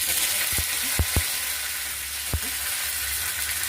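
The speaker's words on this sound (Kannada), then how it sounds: "ಸಾಸಿವೆ ಸಿಡಿತಾ ಇದೆ." Steady frying hiss with a few sharp pops and crackles scattered through it, like mustard seeds spluttering in hot oil.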